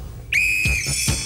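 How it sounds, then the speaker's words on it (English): A referee-style whistle is blown once to start a timed game on a studio adventure game show, a single sharp sustained blast that holds for about a second at close range, with no talk over it. "I'll blow the whistle and you can start to do that"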